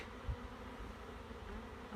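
A low, steady hum of many honey bees buzzing close by at a hive, faint and continuous with no voices.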